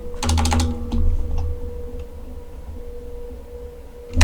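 Quick rattling keystrokes on a computer keyboard, close and clear, tapped in a short burst and then trailing off into a few scattered keys over a low hum.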